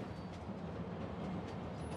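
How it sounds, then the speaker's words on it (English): A train rolls along in the Spider-Man video game, giving a steady, continuous rumble with a faint rattle that holds at an even level throughout, with no talking. "Hey, where's this train going?"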